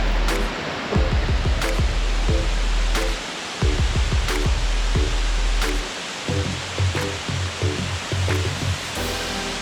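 Iruppu Waterfalls in Coorg roars as a steady, dense wash of falling water, with a run of irregular low thumps and knocks layered over it throughout.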